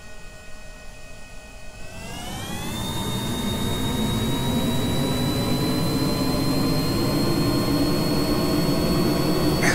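Jet engines in the game Kerbal Space Program spool up on a booster-equipped craft, a steady whine rising in pitch over a couple of seconds and then settling into a loud, continuous roar with no voices.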